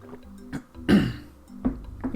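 A few soft throat-clearing grunts and one stronger cough-like burst come close and fairly quiet, spaced out with pauses between them.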